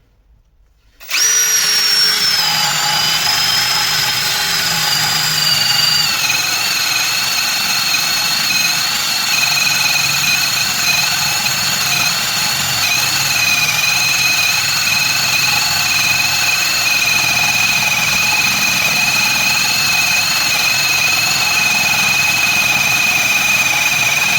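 Procraft PA18LiN cordless drill driving a 32 bit into a wooden block: a loud, steady motor whine that starts abruptly and holds continuously throughout, with no talking.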